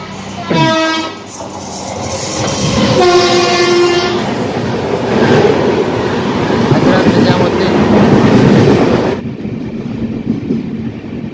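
A sixteen-coach express train rumbles loudly and steadily with rhythmic clatter, heard from aboard, opening with sharp horn toots; the noise drops away suddenly near the end.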